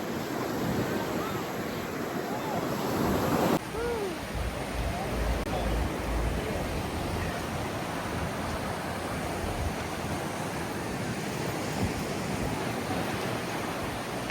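Ocean waves wash steadily onto a beach of blue water in a broad, hissing roar that continues at moderate level throughout, with faint, distant human sounds in the background.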